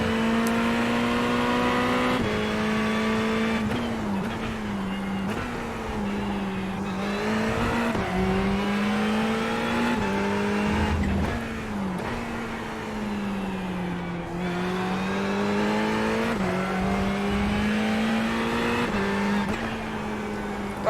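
Ferrari 488 Evo race car in iRacing at the Hungaroring, its engine droning steadily and loud throughout, pitch rising and falling through gear changes and corners with brief dips, no voices over it.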